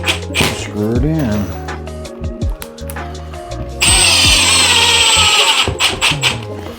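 A power drill drives a screw into a bathroom wall during a remodel: close, loud motor whines that rise and fall in short bursts, then one sustained high grinding run, with speech mixed in.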